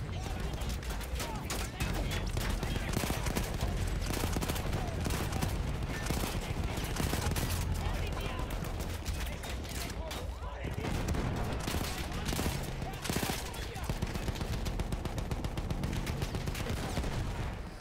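Gunfire from Battlefield 1, a dense, sustained stream of rapid shots and fusillade that fills the whole stretch, with a brief lull near the middle and voices mixed in.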